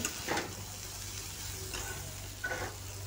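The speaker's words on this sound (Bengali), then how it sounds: "এদিকে উচ্ছে আলু ভাজা হচ্ছে" Bitter gourd and potato frying in a pan, a soft, fairly quiet sizzle running steadily with a few brief brighter bursts of spattering, no voices over it.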